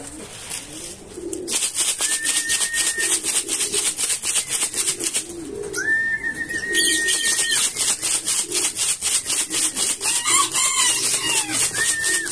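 Pet chickens and other fowl in a backyard coop clucking loudly and continuously at close range, with a rooster crowing a few times and pigeons cooing among the constant chatter.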